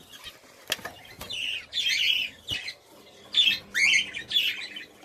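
Pet budgerigars in a home breeding setup with eggs and chicks chirp and squawk in several short bursts, close and fairly loud, with a few sharp wing-flap or thump transients between calls.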